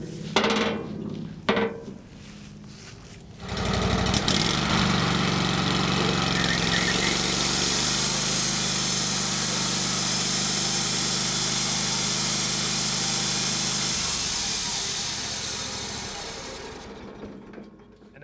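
A WoodMizer LT15 Wide sawmill with a freshly fitted blade spins up after a few clanks of the covers closing, holding a loud, steady mechanical whir for about ten seconds before winding down to quiet.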